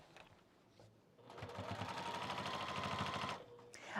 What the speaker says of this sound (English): They're busy sewing.